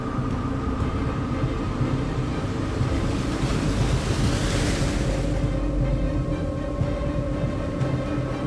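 Ocean surf rolls onto a beach where sharks hunt in the waves. A continuous rumbling wash swells to a breaking crest midway, with no voices.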